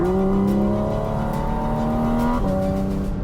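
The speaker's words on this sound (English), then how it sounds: "you can hear all the induction noises, you can hear all the engine noises, you can hear everything in this car" A Porsche 911 GT3 RS engine climbs in pitch under hard acceleration on a race track, induction noise loud and close, then briefly drops at a gear change before pulling again.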